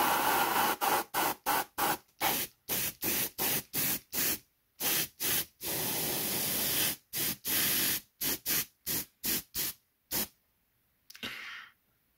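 Repeated short bursts of airbrush spray as paint goes onto the skin of a Ripley model figure for shading, the hissing puffs coming in quick on-off pulses with brief gaps between them, close and steady, with no talk.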